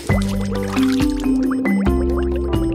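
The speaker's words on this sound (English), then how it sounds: "If we fill up a bucket, we won't need to have the hose running while we wash the car." A bucket filling with water from a garden hose, a steady pouring stream with rising, changing tones as the level climbs and several distinct surges, loud and close with no talking.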